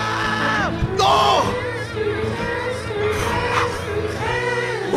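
A crowd on its feet yells and whoops loudly, overlapping shouts rising and falling in bursts over a dense backdrop of cheering, close and energetic.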